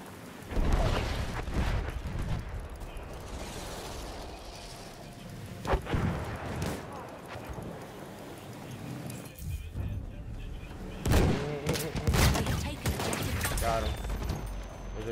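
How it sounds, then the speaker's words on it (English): Tank cannon fire and explosions in the Battlefield 1 video game, heavy booming blasts standing out at intervals from a dense wash of battlefield gunfire and rumble, under a voice talking. "Tank right here. He's shooting at me."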